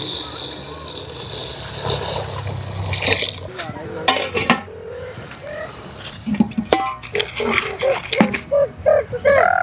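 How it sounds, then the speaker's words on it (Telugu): Glasses of water are poured into rice in a pot for bagara, giving splashing and sloshing bursts with clinks of vessels, intermittent and close, with voices talking over parts of it. "గిలాసుల నీళ్ళు పోసుకోవాలి."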